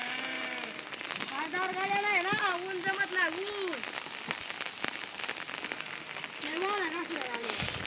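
Rain patters steadily on a mountainside while a person talks over it, with a brief sheep bleat mixed in.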